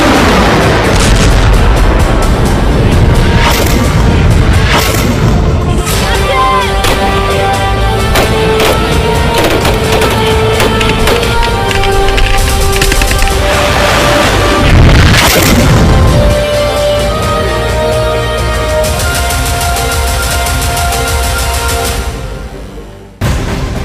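Heavy bombing in the Gaza war between Israel and Hamas, with loud booming explosions and rolling artillery fire continuing without a break for about twenty seconds, then cutting off abruptly.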